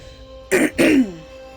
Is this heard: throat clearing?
yes